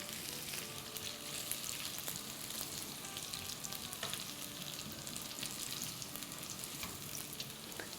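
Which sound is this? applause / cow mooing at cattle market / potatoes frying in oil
potatoes frying in oil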